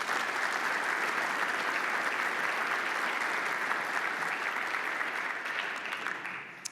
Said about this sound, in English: Can you please give these folks a big round of applause?